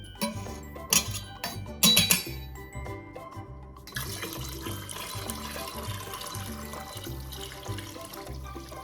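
Water runs steadily from a tap into a 3-quart pan for pot roast in a home kitchen, a continuous close rushing stream after a few clanks and knocks of the pan being handled.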